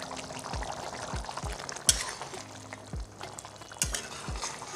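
Village-style Bengali chicken curry gravy bubbles and sizzles in a pan, a steady close frying hiss broken by regular soft thumps of stirring and a couple of sharper clinks.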